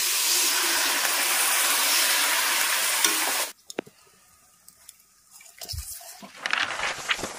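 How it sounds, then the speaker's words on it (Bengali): Loud hissing sizzle of fried fish in a hot pan on a home stove that cuts off abruptly after about three and a half seconds, followed by quieter clinks and bubbling. "এখন আমি এতে জল দিয়ে দেবো।"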